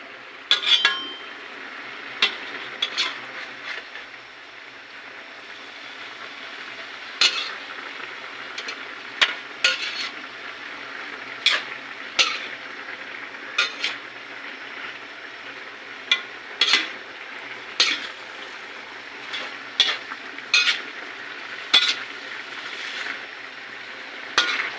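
Vegetables and dagbati leaves stir-fried in a pan: a continuous sizzle broken by regular sharp scrapes and clinks of a utensil against the pan, close and moderately loud, with no talking.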